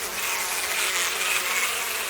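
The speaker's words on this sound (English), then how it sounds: "The bees are gathering on it." Bees swarm in the horror video game Death Mark, making a dense, steady buzzing drone that holds evenly from start to finish with no talk over it.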